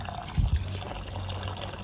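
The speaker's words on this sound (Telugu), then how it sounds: "గోరుచిక్కుల్ని నీట్గా ఇలా రెండు మూడు సార్లు మంచిగా కడుక్కోవాలి" Cluster beans are washed in water, with a couple of sloshing splashes near the start followed by a quieter steady trickle.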